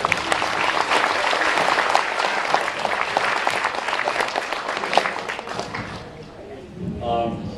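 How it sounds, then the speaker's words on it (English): Wedding guests applauding for the parents of the bride and groom at a celebration in Hawaii, dense sustained clapping from a crowd that fades out as a voice begins at the end. "Please give them a round of applause for it."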